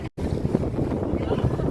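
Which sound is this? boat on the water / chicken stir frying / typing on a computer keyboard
boat on the water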